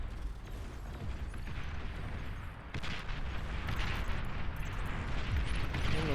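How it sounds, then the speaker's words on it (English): Artillery barrages rain down in the real-time strategy game Beyond All Reason during an 8v8 match, a dense, continuous rumble of overlapping blasts and impacts that swells louder toward the end. "There is artillery from Shell Shockers coming in."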